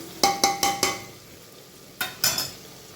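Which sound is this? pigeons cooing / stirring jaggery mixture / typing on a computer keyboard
stirring jaggery mixture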